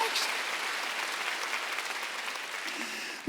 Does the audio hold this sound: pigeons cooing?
no